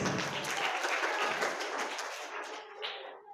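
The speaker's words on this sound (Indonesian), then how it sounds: "Kasih tepuk tangan buat Hafiz." Children applaud together at an Islamic youth motivation gathering, a dense wash of clapping that holds steady before tapering off and trailing into near silence.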